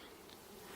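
Honey bees buzzing around a hive during a transfer from nuc frames, a continuous faint drone of many insects without talk.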